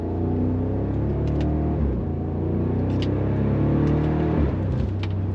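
A BMW X5 50i fitted with Valvetronic Designs universal mufflers rumbles steadily as the throttle is tapped, with a few sharp little exhaust pops crackling over the deep, close engine drone.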